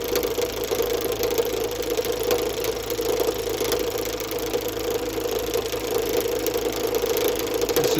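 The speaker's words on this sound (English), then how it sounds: "I'm slowly advancing the cutter into the work with the bottom" A Sorby RS 3000 cutter is slowly fed into a workpiece on a lathe. It gives a steady, loud, continuous whir with a faint rattle that runs unbroken throughout, with no talking.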